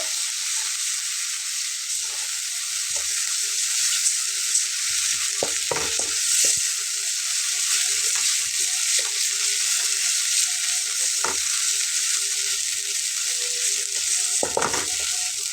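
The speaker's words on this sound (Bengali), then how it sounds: "এখন এই মশলাটাকে একটু ভেজে নেব" Spice mix frying in a pan for a ridge gourd and masoor dal dish, a loud continuous hissing sizzle with occasional sharp stirring scrapes and knocks, no voices.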